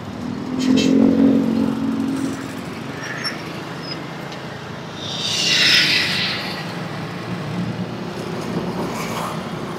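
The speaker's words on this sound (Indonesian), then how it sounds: "Nah ini udah banyak kendaraan ya teman-teman." Busy road traffic with many vehicles passing on a windy day, engines swelling and fading as cars and motorcycles go by, with a louder pass near the start and another midway.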